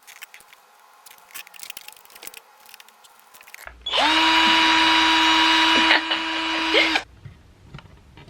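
A power drill bores holes into a wall for mounting a floating desk, a loud steady whirring burst of about three seconds that cuts off sharply, with quieter handling sounds before and after.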